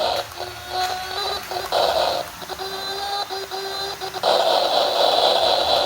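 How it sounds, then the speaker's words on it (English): Whistle effect from a 1993 Hornby Night Mail train set's sound unit, a loud, steady electronic tone sounding in repeated bursts of a few seconds each, played alone with no talk. "And then obviously a whistle."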